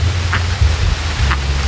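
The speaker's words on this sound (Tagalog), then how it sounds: "Ngayon is lumalakas na yung ulan" Steady heavy rain pours down outdoors, a dense broadband wash with low rumbling underneath that holds loud and continuous, with no voices.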